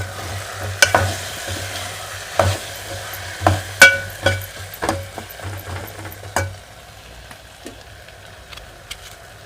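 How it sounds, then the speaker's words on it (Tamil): Brinjal frying in oil in a pan for a tamarind kuzhambu with chickpeas: a soft continuous sizzle broken by a series of sharp stirring clatters, which then fade to a quieter, steady sizzle. "இந்த எண்ணெயை கூட நல்லா கத்திரிக்காய் வேகட்டும்"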